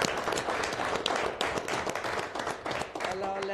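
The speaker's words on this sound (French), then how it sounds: "je pense qu'on peut s'applaudir même" Brief, dense applause from a small group at a Rouyn-Noranda municipal council meeting, clapping steadily for a few seconds before fading out.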